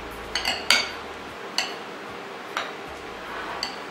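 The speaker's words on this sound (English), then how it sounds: "Grab ourselves a spoon. We'll get all that tossed together." Spoon tossing fish taco ingredients in a bowl, giving a handful of sharp, separate clinks and scrapes spaced about a second apart, close and fairly quiet.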